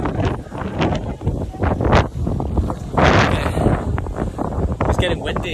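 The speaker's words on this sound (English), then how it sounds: "It's getting windy as well." Gusty wind buffets the microphone at a hilltop viewpoint in Tanzania, rising and falling in strong, close rumbling blasts while a person briefly speaks.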